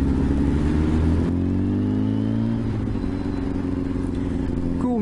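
A 1989 Kawasaki ZXR750H1 sport bike engine drones steadily while riding, its pitch climbing and then settling into a continuous loud hum with wind rush and no talking.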